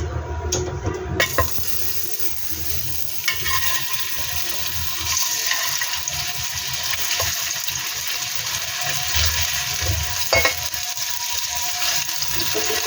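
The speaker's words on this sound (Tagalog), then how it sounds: "dadako naman po tayo sa pagpiprito ng ating longganisa" Skinless sweet garlic longganisa sausages frying in a little oil in a pan, a steady close hiss and sizzle running throughout with occasional faint pops and clatters.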